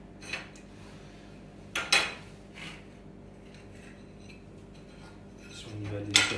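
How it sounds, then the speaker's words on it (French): Small baked tart shells being unmoulded from metal tart moulds, giving a few sharp light metallic clinks and taps spaced apart over a faint background hum, close and fairly quiet. "Donc là, on va démouler nos petits fonds de tarte."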